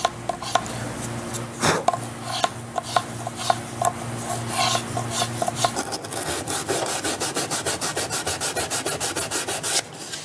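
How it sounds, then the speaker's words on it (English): Rough, rhythmic rasping of sandpaper on guitar wood, close and loud, the strokes speeding into a fast steady back-and-forth toward the end. "This is just a very quick, rough sanding, certainly not finished."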